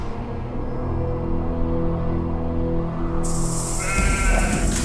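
Sheep bleating in a herd tended by a young Bedouin shepherd, several close, loud bleats layered over a steady droning background.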